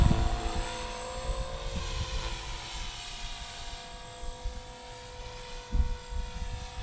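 An older Blade 300 CFX radio-controlled helicopter hovers and flies nearby, a steady high rotor and motor whine with a buzzy hum, and gusty wind buffets the microphone with occasional low bumps.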